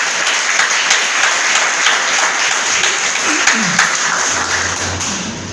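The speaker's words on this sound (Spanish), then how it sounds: "Denle un aplauso al Señor." A church congregation claps in a sustained, dense wash of applause that stays loud and steady throughout, with voices mixed faintly into the noise.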